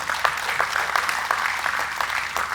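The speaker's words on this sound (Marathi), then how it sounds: "मामांसाठी खूप टाळ्या वाजवायला पाहिजेत" An audience at a book festival in Goa applauds with steady, dense clapping throughout, moderately loud and continuous without talk over it.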